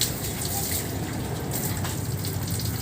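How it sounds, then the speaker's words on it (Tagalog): Steady, loud splashing and gushing of water, poured out while washing a Honda Click 125 motorcycle, runs continuously without a break, and no clear talking rises above it. "Ba't tinatapon mo yung tubig?"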